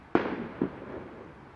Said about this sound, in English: sounds like we've got fireworks going off as well